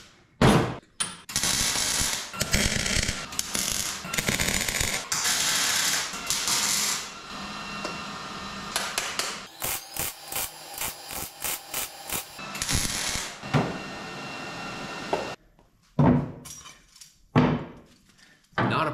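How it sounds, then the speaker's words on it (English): Welding a 90 degree pipe to V-band connectors for a turbocharged V8 jet ski, heard as a series of harsh, crackling bursts of varying length separated by brief pauses, close up and without talking. "Quick simple weld up of my 90 degree to the V-band connectors."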